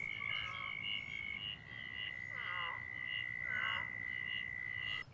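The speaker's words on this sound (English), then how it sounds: "You guys hear those frogs or whatever they're there?" Frogs croak in repeated pulsing calls near water on a disc golf course, steady and fairly close over a constant high tone and low outdoor rumble.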